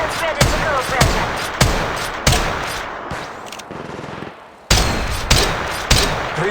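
Gunfire in the video game Apex Legends Mobile, with loud, close bursts of rapid automatic shots separated by short pauses and a brief quieter stretch in the middle.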